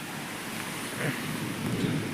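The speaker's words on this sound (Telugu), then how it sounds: "వచ్చేసాం ఇంటికాడికి అయితే వర్షం తక్కువగానే ఉంది" Light rain falls with thunder near a rural home: an even, close hiss of rain carries on throughout, with low rumbling swells about halfway through and again near the end, and no talking.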